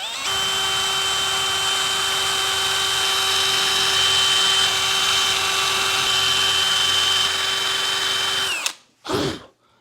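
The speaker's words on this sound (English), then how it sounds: "Some people at this point like to drill out the waste" A power drill boring out mortise waste in wood whines loudly and steadily for several seconds, then cuts off abruptly, followed by a short second burst of spinning.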